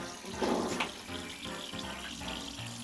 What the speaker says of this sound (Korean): 지금 이렇게 칙 하고 물 새는 소리가 납니다.